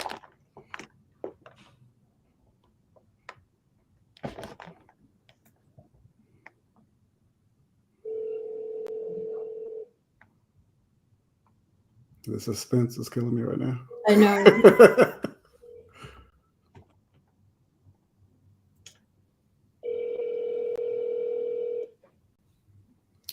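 A steady ringback tone sounds twice, each burst about two seconds long and well apart, with quiet talk and laughter in the gap between.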